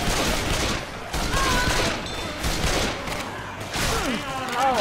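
Rapid gunfire from a zombie shooter game, Left 4 Dead 2, with a tank zombie about, fires in dense, overlapping bursts that fill the whole stretch, mixed with game noise and some talk.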